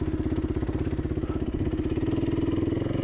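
A dirt bike engine on the Barren Ridge trail makes a steady, close, throbbing putter at low throttle, its rhythm holding even for about three seconds with no voices.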